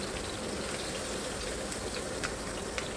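Onions fry in a pan with garlic, giving a continuous close sizzle and crackle at an even level, with occasional small pops and no talking.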